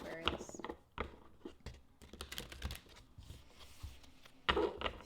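A deck of tarot cards being shuffled with irregular crisp slaps, riffles and soft clicks, faint and close, with brief pauses between bursts.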